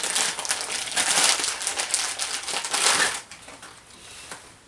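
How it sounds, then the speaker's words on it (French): A package of airsoft gear is opened up close, with loud crinkling and crushing of plastic and paper wrapping in quick bursts that ease off near the end. "On va essayer d'ouvrir, ce sera mieux."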